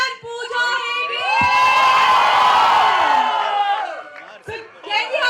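A packed mall crowd at a film promotion with Hrithik Roshan and Pooja Hegde screams and whoops loudly. High, sustained shrieks swell for several seconds and then fade into scattered shouts and chatter.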